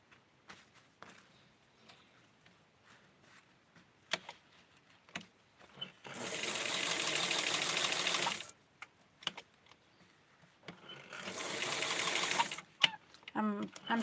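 A sewing machine stitches lace on a doll garment in two short bursts of rapid, buzzing needle strokes, each lasting a couple of seconds, separated by quiet handling clicks and rustles.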